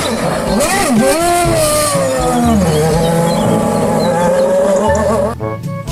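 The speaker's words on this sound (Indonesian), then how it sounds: "Yang ini ada mobil balap" A toy F1 race car plays a loud electronic racing sound, with sweeping, revving engine tones close by for several seconds before cutting off, and voices talk alongside.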